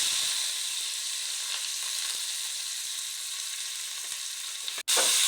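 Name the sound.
onions frying in oil in a wok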